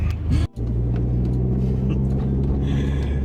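A car drives through an unfamiliar older neighbourhood in town, heard from inside as a steady, loud low engine and road rumble that continues throughout, broken only by a brief dip near the start.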